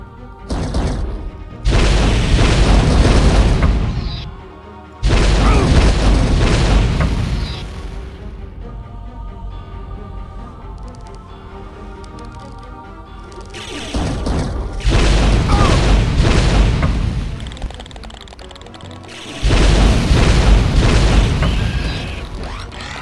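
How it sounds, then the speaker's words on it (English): Scorpion missile launcher blasts in the video game Turok 2, four long, loud, roaring explosions separated by a lower sustained rumble of game noise. "Scorpion missile launcher."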